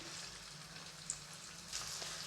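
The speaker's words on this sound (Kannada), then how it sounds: "ಇವಾಗ ಎಣ್ಣೆ ಬಿಸಿಯಾದ ನಂತರ ನಾವು ಹೆಚ್ಚಿಟ್ಟಿರೋವಂಥ ಈರುಳ್ಳಿ ಹಾಕೋತಾ ಇದ್ದೀನಿ" Chopped onions hit hot oil in a kadai for a chicken gravy, giving a faint, steady sizzle with a soft crackle that holds evenly throughout, no voices.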